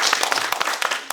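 An audience at a church preaching class claps in a short burst of applause, steady and close, with no talking.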